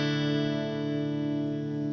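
Quiet guitar tone run through an Echo Baby pedal on its modulation side, giving a sustained, chorused delay wash that rings steadily and evenly throughout with no voices.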